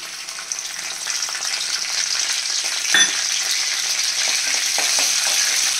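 Mustard seeds, cumin, urad dal, garlic and curry leaves fry in hot oil for a tempering, a steady close sizzle with a sharp crackle partway through.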